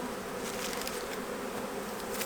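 Honey bees drone steadily at an open hive in winter, a dense continuous buzz close by with no voices.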